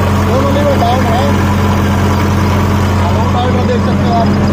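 A Sonalika DI 35 tractor with a 7-foot Landforce rotavator runs at steady RPM, a loud, constant low diesel drone with a firm rhythmic throb, close by and uninterrupted.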